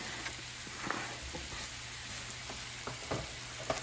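Mushrooms, zucchini and onion frying in butter and garlic, a low steady sizzle with a few soft clicks and stirring scrapes, close up and without talk.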